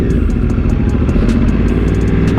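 A Yamaha R1 sport motorcycle with a crossplane engine runs close by, a steady, dense engine drone with a lumpy, uneven firing pulse and mechanical clatter holding at a constant level throughout.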